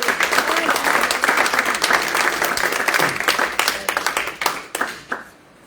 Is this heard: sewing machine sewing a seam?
no